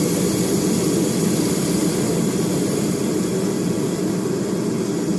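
A Harbor Freight propane heater running, its steady, roaring burner rush building into a broad, continuous drone that holds level and close throughout, with no talking over it.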